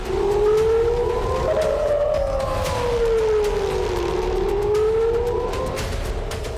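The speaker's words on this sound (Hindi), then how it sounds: "इजराइल के 5 शहरों में बजा तबाही का सायरन" Air raid sirens wail across Israeli cities, a loud rising and falling tone that sweeps slowly up and down and sounds continuously without pause.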